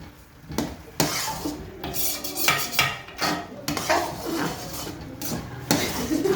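Carrot halwa being stirred and roasted in desi ghee, with a utensil scraping and clinking against the pan in repeated close strokes, no talking.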